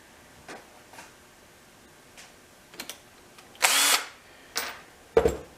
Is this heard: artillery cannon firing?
no